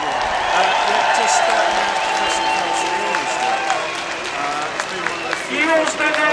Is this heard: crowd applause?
yes